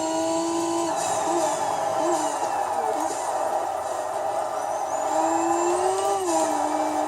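A Ferrari Enzo engine in a Forza racing game revs up and down, its pitch sweeping between gear changes, loud and close with no talking.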